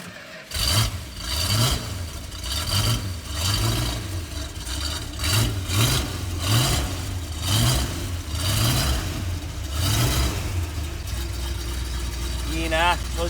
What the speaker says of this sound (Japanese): とりあえずじゃあエンジンかけようね。